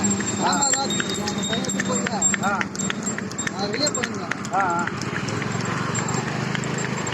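Horse hooves clip-clop in a steady rhythm on a road, fairly close, under almost constant talking and shouting voices.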